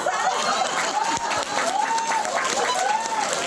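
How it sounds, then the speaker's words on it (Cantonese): Audience applause at a gathering, a dense, sustained clapping that fills the whole moment at close range, with a faint crowd murmur and voices mixed into it. "我哋聽到，拍手。"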